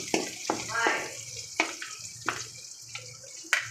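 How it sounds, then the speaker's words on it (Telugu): Curry leaves splutter in hot oil for a brinjal-tomato roti chutney, giving sharp crackling pops at irregular intervals over a soft, steady sizzle, close and fairly loud, with no talking. "ఇలా వేగేటప్పుడు కొద్దిగా కరివేపాకు వేద్దాం. కరివేపాకు చిరుపెట్టలాడాలండి."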